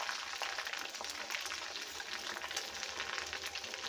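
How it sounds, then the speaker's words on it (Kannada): Green kebabs fry in a pan with a soft, steady crackling sizzle, faint and fairly close, running unbroken with no talking over it. "ಈಗ ಕಬಾಬು ಚೆನ್ನಾಗಿ ಫ್ರೈ ಆಗಿದೆ"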